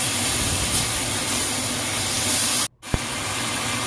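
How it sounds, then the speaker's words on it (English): Lotus root sizzles as it is stir fried in a pan, a steady loud hiss that cuts out abruptly near the end before a single clink and then resumes. "Stir fry for at least 1 minute."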